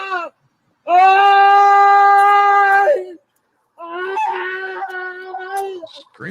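A man being arrested screams in two long, high, drawn-out wails separated by a short pause, the first louder and steadier, the second rougher and wavering; they are close and loud.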